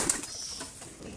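A domestic pigeon sitting on eggs in a home loft, giving a soft, brief cooing sound close by against a faint ambient background.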